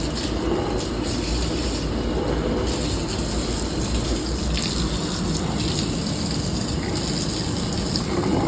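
Water runs steadily into a kitchen sink drain during clog clearing, a constant loud rushing wash with no pauses and no voices.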